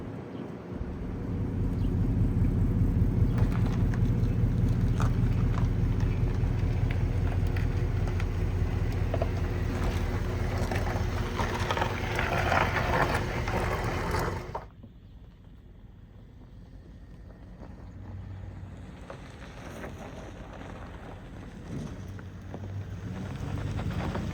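A Ford F100 pickup fitted with a Crown Vic engine swap drives on its first test run, with a loud, steady engine and road rumble plus wind buffeting that cuts to a quieter, softer hum partway through.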